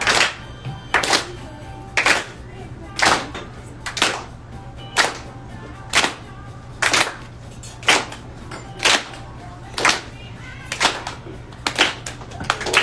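Underwater fireworks from acetylene and chlorine gas reacting: a regular series of sharp popping bursts, roughly one per second, loud and close, repeating evenly over a steady low hum.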